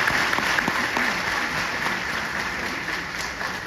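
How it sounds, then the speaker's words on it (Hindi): Audience applause at a youth convention lecture hall in Sikkim, a dense steady wash of many hands clapping that fills the clip and tapers slightly toward the end, with no one speaking. "ताली तो बजा दी आपने"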